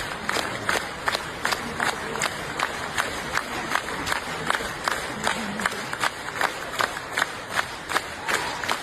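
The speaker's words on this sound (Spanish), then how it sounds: "Bastante largo los aplausos" Long, sustained applause from a large audience after a live concert in Vietnam, steady clapping with rhythmic waves and crowd cheering, loud and continuous throughout.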